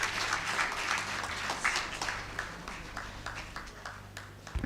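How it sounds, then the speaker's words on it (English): Sustained applause from a conference audience at an industry event, a dense steady wash of many hands clapping close and loud for the full length, with no voices over it. "Please, let's keep clapping."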